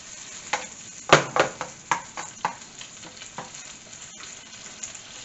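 Curried chickpeas with onions, peppers and other vegetables heat in a pan, with a soft steady sizzle broken by a series of scraping stirs and clacks of a utensil, loudest near the start and easing toward the end.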